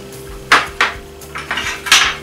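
Metal pincers and other carpentry hand tools clink and clatter as they are set down, making five sharp, close metallic knocks spaced unevenly over about two seconds.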